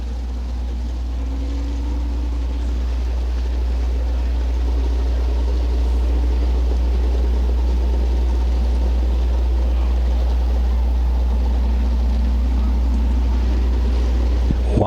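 Wingless sprint cars race at Butler Motor Speedway, a sustained loud engine roar that swells and holds across the whole stretch as the field runs the oval, with an announcer's voice faintly underneath.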